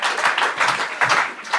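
Comedy stage audience breaking into applause and clapping, a dense rolling patter of many hands lasting under two seconds, loud and close with no voices on top.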